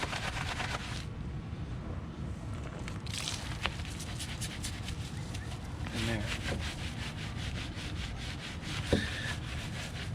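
An EZ Detail wheel brush scrubs inside a car wheel barrel between the rim and brake caliper, giving a continuous close rasping and rubbing sound with a few faint knocks.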